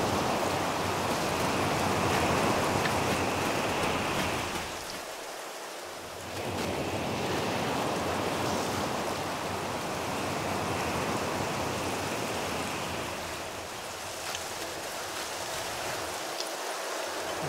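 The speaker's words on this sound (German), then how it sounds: "Draußen ist alles nass vom Regen." Steady rain in the video game Reprobates, a broad continuous hiss like downpour on wet surfaces, loud and unbroken for most of the stretch with two brief dips where the low rumble drops out.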